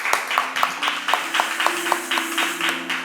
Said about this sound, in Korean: 우리가 사랑의 마음으로 함께 박수로 우리가 올려드리겠습니다